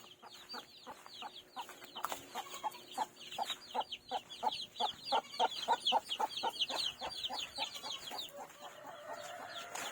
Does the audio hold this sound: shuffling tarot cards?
no